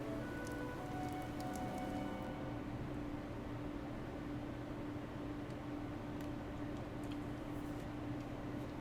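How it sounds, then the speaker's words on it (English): Heavy rain pours steadily in a Fire Emblem: Three Houses battle scene, a dense continuous hiss of drops with faint ticking patter and a low, even background hum throughout. "The rain is really coming down now."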